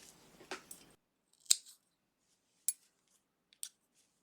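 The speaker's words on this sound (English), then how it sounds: "and cut this yarn" Scissors snip crochet yarn at the end of a headband row, a few sharp, close, isolated clicks spaced apart in near silence after a brief rustle.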